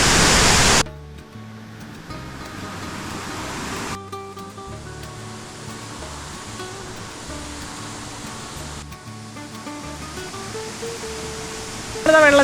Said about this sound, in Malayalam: ഇതാട്ടോ നമ്മുടെ തൂമാനം വാട്ടർഫാൾസ്